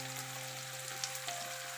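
Onions fry in a pan with salt added, a steady soft sizzle with faint crackles, close by and alone with no talking.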